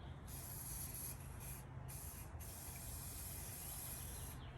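A steady, faint hiss runs throughout, briefly interrupted a few times, as a spray can of primer sprays in short pulses into a recycled container.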